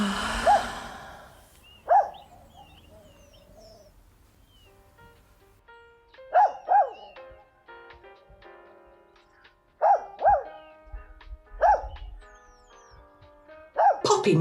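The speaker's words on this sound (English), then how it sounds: "must be barking at next door's cat again." A dog barks in short bursts, single and doubled yaps spaced a few seconds apart, somewhat distant in a quiet room with no talking.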